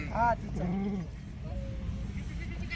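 A goat bleats nearby in a couple of short, wavering calls, followed by a fainter bleat, over low background rumble.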